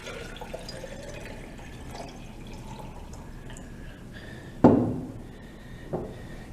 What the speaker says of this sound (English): We're going to put water